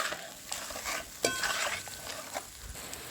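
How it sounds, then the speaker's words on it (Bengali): Spices, turmeric and chili powder, stirred in a pan with a soft continuous frying sizzle and a few scraping strokes of a spoon against the metal, close but fairly quiet. "হলুদ, লঙ্কা গুঁড়ো নেড়ে নেব।"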